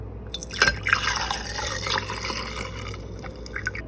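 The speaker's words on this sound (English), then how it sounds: "Now I'm going to pour this into this jar." Herb-infused vodka pours from a container into a jar, a close splashing trickle with bright drips that settles into a steady gurgling stream for several seconds, no talking.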